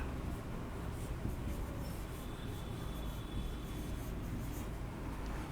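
Pen scratching on paper while a calculus limit problem is worked by hand, a soft continuous rubbing and scraping that stays close and steady for several seconds with no talking.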